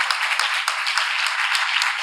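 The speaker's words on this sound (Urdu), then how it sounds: "خداوند کے لیے زوردار تالیاں بجائیں۔" Loud, steady applause from a church congregation during an Urdu-Hindi sermon, dense clapping that holds for about two seconds without a break.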